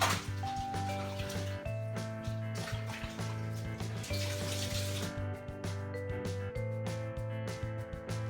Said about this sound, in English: I'm just gonna wash my hand before I touch that again.